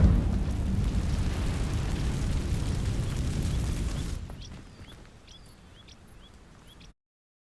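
A fire spell bursts into flame against dry vines in Hogwarts Legacy, a loud broadband whoosh and crackling rumble for about four seconds that drops to a faint tail with small chirps.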